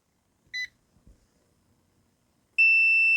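ZOYI ZT-1000R insulation tester beeping during a high-voltage insulation test: one short beep, a quiet stretch with faint handling noises, then a loud, sustained piercing tone.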